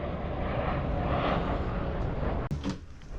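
A TUI passenger jet comes in to land at Sharm El Sheikh, a steady broadband engine roar heard from a moderate distance, ending with a brief sharp knock and a softer tail.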